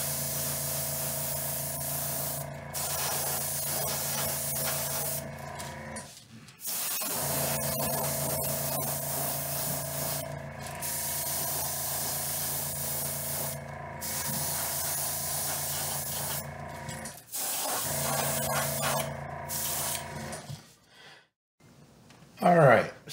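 Base coat paint is sprayed from a spray gun in repeated long hissing bursts broken by short pauses, fairly close. A final brief burst ends it, and a voice speaks in places.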